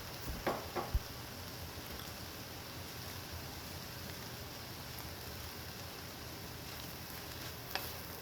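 Red cabbage poriyal stir-fries over high heat in a pan, a soft continuous sizzle with a few scraping stir clicks near the start and end, fairly faint with no talking.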